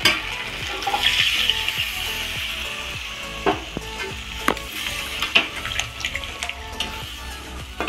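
Chilli chicken sizzles and fries loudly in a pan as water is poured in, with a rush of hissing followed by sharp clinks and scrapes of a spoon stirring at close range.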